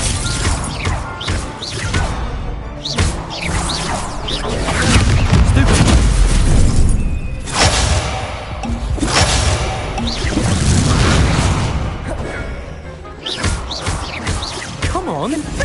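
Incendio fire spell blasts in Hogwarts Legacy combat, loud whooshing booms and crashes bursting repeatedly amid chaotic battle noise, with a voice shouting spell names over the action.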